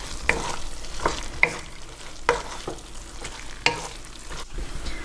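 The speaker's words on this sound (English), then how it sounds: "Stir that up on high heat for about 30 seconds." Lobster stir-fries over high heat in a wok, a continuous loud sizzle broken by several sharp scraping and clanking strokes of the spatula, with no talk.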